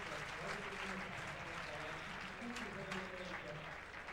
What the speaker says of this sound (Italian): l'applauso c'è tutto